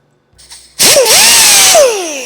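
A rotary tool with a small carbide bit grinds into a Model A Roadster windshield frame, a loud close high-pitched whine that spins up sharply and holds steady for over a second before easing off.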